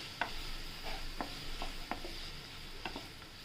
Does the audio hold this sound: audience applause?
no